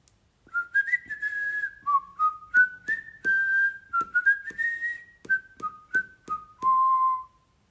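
Someone whistles a simple tune alone, clear short notes and a few held ones, rising and falling in a lilting melody.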